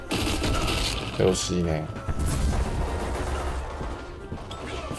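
Rapid MP7A1 submachine gun bursts in the shooter game Black Squad, dense and continuous near the front of a busy firefight, with someone talking over the shooting.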